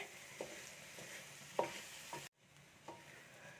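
Ration raw rice mixture being roasted and stirred in a pan, with soft repeated scraping strokes over a low sizzle, fairly quiet, with a brief gap near the end before stirring resumes.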